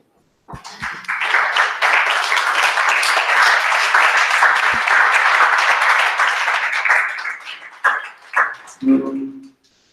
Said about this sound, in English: I'd invite you all to give a warm applause for Anon, Mohammad Salemy.